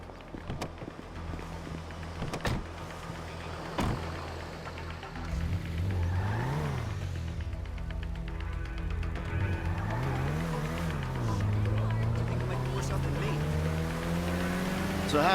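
A car is driven in a video game cutscene, its engine revving up and down in repeated rising and falling sweeps, close and steady, with voices talking early on.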